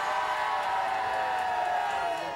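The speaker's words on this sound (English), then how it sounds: "Give me a cheer now." A crowd of holidaymakers on a workers' day out in Tenerife roars and cheers on request, a dense, loud, unbroken wall of voices that holds steady from start to finish.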